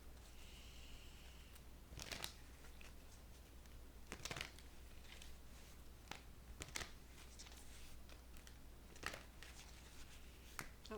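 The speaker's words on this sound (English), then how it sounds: "I'm going to shuffle again." Tarot cards being shuffled by hand, faint soft riffling bursts and scattered papery flicks at irregular intervals over a quiet low hum.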